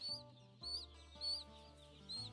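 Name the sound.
chickens clucking in a broiler flock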